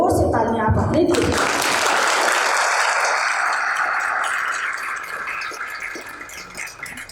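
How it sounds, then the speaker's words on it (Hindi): Loud applause from an audience at a youth parliament event, honouring students after their stage performance; dense clapping fills the opening seconds and then slowly fades, with some voices mixed in. "एक बार जोर से तालियां आप अपने दीजिए"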